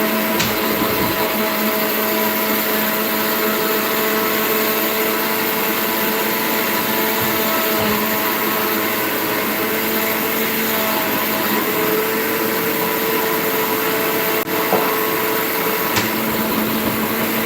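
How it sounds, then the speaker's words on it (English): A kitchen blender runs continuously, processing chili con carne ingredients with too much pepper, a loud, steady high-pitched motor whir that holds for the whole stretch without pause, and no one speaks. "What happens when I put too much of pepper inside the blender?"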